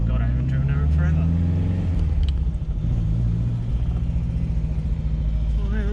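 A car with upgraded suspension driving on the road, its engine and tire rumble steady and close inside the cabin while people talk over it.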